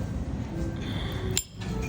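Glasses clink once in a toast at breakfast in Bangkok, a single bright clink just before the end over quiet background noise.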